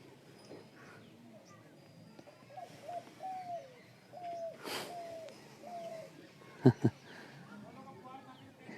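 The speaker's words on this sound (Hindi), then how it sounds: "ये चिड़ियों की जो आवाज़ आप सुन रहे हैं," Birds coo and chirp in a quiet outdoor setting, a dove's soft repeated coos leading, with a couple of sharper calls near the end.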